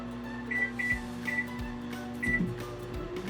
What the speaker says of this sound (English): We're gonna microwave it just to melt the butter in there